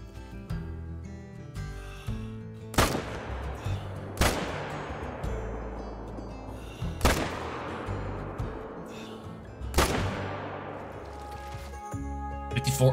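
Four loud gunshots ring out at roughly even intervals during a crocodile hunt in the Call of the Wild hunting game, each with a sharp crack and long decaying echo.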